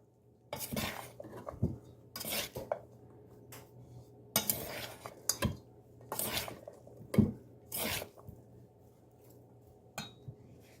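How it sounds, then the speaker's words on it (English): A spoon stirs black beans and rice with salt in a pot, making repeated scraping and clinking bursts close up, with quiet pauses between and no voices. "I'll stir it up a little bit and add some more."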